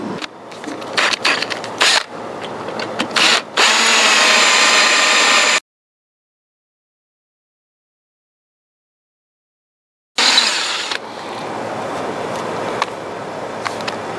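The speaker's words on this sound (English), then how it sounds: "First thing I got to do is just drill a pilot hole." A power drill with a dulling bit bores a pilot hole into a lawn mower, making a loud steady whine in bursts with a silent gap between runs, close to the microphone.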